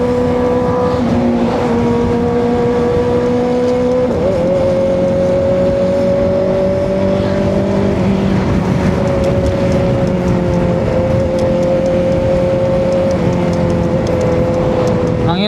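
A big motorcycle, roughly 400 to 700 cc, revs and runs with a loud sustained engine tone that steps up in pitch between gear shifts, close by, with a voice talking over it.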